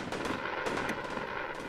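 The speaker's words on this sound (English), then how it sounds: "The fireworks are amazing." Fireworks going off in the Roblox game Lumber Tycoon 2, a dense run of crackling bursts and pops that continues steadily through the whole short stretch at moderate loudness, with no talking.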